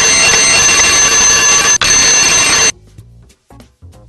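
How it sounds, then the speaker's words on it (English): A loud alarm clock rings continuously in a bedroom for about two and a half seconds, then cuts off abruptly, leaving faint scattered sounds. "Raymond is sleeping soundly, but is about to be awakened by his alarm clock."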